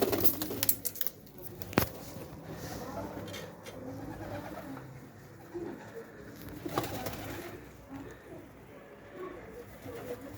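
Akbaş pigeons coo in low, rolling calls close by, with wing flutters and sharp clicks early on, over a murmur of outdoor background noise.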